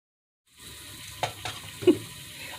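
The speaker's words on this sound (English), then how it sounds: "we're sauteing everything into the pot, throwing the ginger inside also, and letting it saute all together" Vegetables and ginger sauteing in olive oil in a pot for pinakbet, a sizzle that starts abruptly after a short silence and carries on steadily, broken by a few sharp clanks of stirring against the pot.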